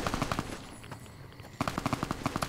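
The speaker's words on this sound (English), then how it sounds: "Who's shooting?" Rapid machine gun fire in Fallout: New Vegas, loud bursts of regular evenly spaced shots at the start and again after a short quieter gap.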